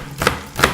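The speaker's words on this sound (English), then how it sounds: "We are now chopping our onions" A kitchen knife chops onions roughly into chunky pieces for a fish breyani, giving two separate close knocks on a board.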